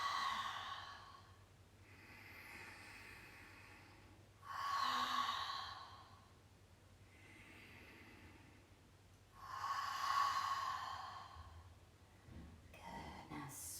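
Slow, deep breaths during an air element movement exercise, long exhalations and inhalations alternating in a calm rhythm, close and fairly quiet with no talking.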